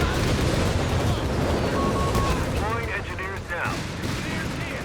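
Nebelwerfer rocket barrage in Company of Heroes 3: a loud, dense mass of overlapping shots and rumbling impacts, with rising rocket whines in the middle and a voice talking over the battle.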